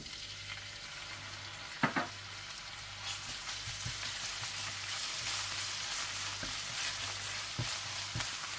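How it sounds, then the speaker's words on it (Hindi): Crushed garlic and ginger fry in hot oil for Schezwan rice, giving a steady close sizzle with occasional stirring clatters and spoon knocks, and no talking. "इसमें आप कुटा हुआ लहसुन और अदरक डाल दें और इसे हल्का सा लाइट ब्राउन कर लें।"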